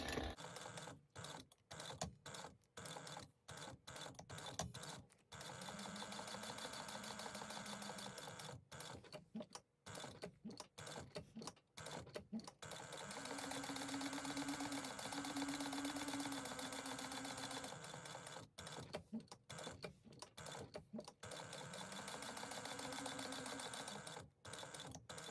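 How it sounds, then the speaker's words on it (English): A sewing machine runs in long steady stretches with short stops, back stitching seams on a handmade wallet. The whir is continuous and mechanical, with no voices. "we are going to back stitch over each of those"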